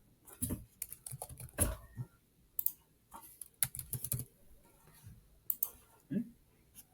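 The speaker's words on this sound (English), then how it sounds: "I can just type in Molly, Mike, Megan" Keyboard typing on a computer as a group message is entered, short bursts of clicking keystrokes with pauses between, close and fairly quiet.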